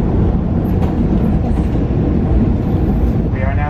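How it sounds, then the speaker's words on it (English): A two-car metro train runs along its rails with a steady, loud rumble and continuous rolling wheel noise from on board, carrying on without a break. "This is a two-car train running every 15 minutes."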